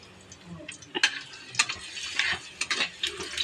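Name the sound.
garlic frying in oil in a hot pan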